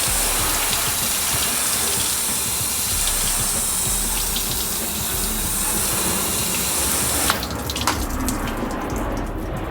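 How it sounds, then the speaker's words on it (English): Water from a hose rinses a 1973 Westfalia van body after metal prep, a steady broad hiss of spray running continuously with a brief clatter near the end. "I'm about to wrap the water hose right now and go ahead and rinse"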